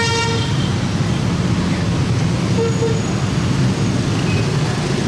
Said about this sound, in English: There you hear the roar of the motorbikes